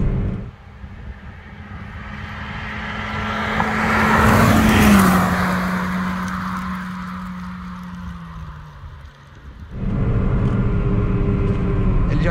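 A 2024-style Polo 1.0 TSI or Hyundai i30 2.0 with manual gearbox accelerating hard on a road, engine note climbing steadily for several seconds before a brief lift-off and renewed pull, loud and close from inside the cabin.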